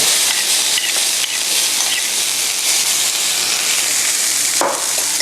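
Shredded carrots fry in a hot skillet with a steady, close broadband sizzle, loud and unbroken for the whole stretch, with a brief scrape or stir near the end.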